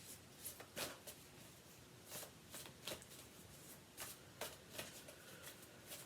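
Moonology oracle cards are shuffled by hand in a series of quick riffling bursts with short pauses between, close and fairly quiet, no talking.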